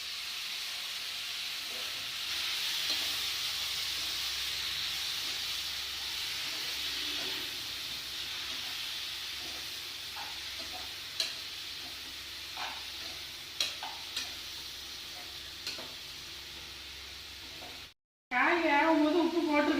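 Broad beans (avarakkai) fry in a pan with chilli and coriander powder, giving a steady close sizzle broken by scraping stirs and light clinks, then a brief cut and a louder burst of frying.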